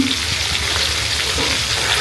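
Slightly overdone fish fries in a pan with a loud, continuous sizzle that holds steady throughout, close up and without speech.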